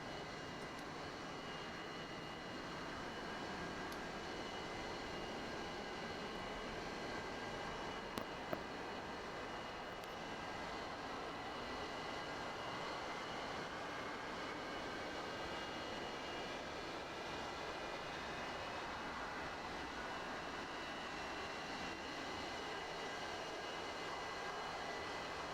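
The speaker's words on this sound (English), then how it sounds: "we're going to go ahead and crank that left engine now" A Su-30 Flanker jet engine spools up in the DCS flight simulator, a steady faint whine and broadband roar that holds evenly throughout with tonal whistles on top.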